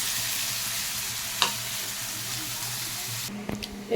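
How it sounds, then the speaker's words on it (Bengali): Potatoes and chopped onions fry in oil in a pan with a constant hissing sizzle, close and steady, broken by a brief utensil tap and a light clatter near the end, no talking. "আলুটাকে বেশ লাল করে ভেজে নেব।"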